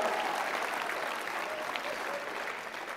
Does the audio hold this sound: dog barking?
no